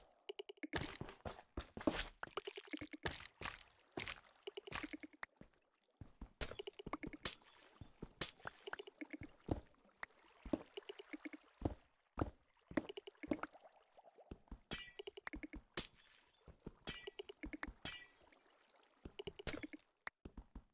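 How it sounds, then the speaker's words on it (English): Glass blocks in Minecraft shatter one after another in quick, sharp bursts, dozens of crisp breaking clinks coming in irregular clusters with short pauses between, close and fairly quiet, with no talking. "All right, we're gonna get rid of the glass."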